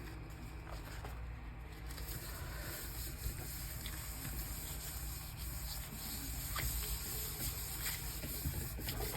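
Paint is rubbed through a small cake stencil onto a surface, a quiet continuous scrubbing texture with repeated soft brush strokes, faint and steady throughout.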